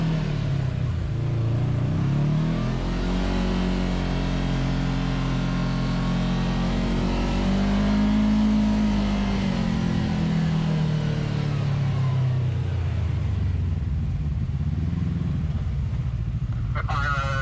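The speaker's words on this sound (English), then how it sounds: "We're gonna go back up in high gear for the remaining of the trip home." A Kawasaki KRX side-by-side drives on a dusty trail, its engine droning loud and close as revs rise and fall, with someone talking over the running motor.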